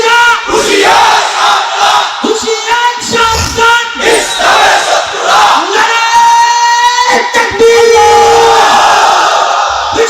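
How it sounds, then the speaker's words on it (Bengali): A large crowd at a Bangladeshi religious waz gathering roaring a takbir slogan in unison, loud and sustained massed shouting with rising and falling chants close up. "আর আপনারা ইমানই বলে বলিয়ান হয়ে জবাব দিবেন, তাকবীর উঠাবেন, মুসলমানের তাকবীর।"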